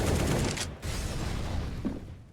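Sustained automatic gunfire sprayed through a smoke grenade during a Counter-Strike: Global Offensive tournament match, dense and continuous for about two seconds with a brief gap, loud and close.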